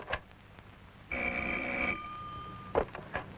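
A telephone rings in an office, one electronic ring burst lasting under a second, then a brief tone and the clatter of the handset being lifted.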